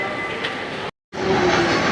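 Steady rumble of a passing train with a brief total dropout midway, continuous and moderately loud with no voices.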